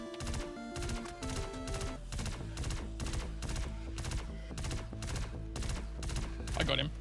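Rapid, evenly spaced gunfire from the space game Star Citizen rings out as a steady run of sharp, punchy shots under a continuous tonal hum, fairly close and consistent in level throughout.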